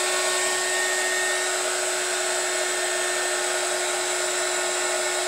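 An embossing heat gun runs continuously to heat embossing powder on a paper craft piece, a steady high whirring blow with a constant tonal whine, close and uninterrupted, with no talk.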